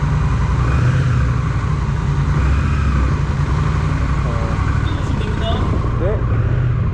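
A Honda Rebel 1100T DCT cruiser motorcycle runs at a steady idle after being started. Its low, even engine rumble stays constant and close throughout.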